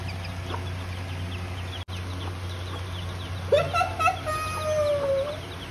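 Small chicken peeps and clucks repeat over a steady low hum, with one louder, stretched cluck partway through.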